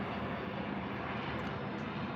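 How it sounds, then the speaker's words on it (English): A fixed-wing airplane passes overhead at dusk, a faint, steady broadband drone that stays even throughout with no other sounds over it. "we have an airplane coming overhead"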